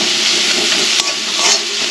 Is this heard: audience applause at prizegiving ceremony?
no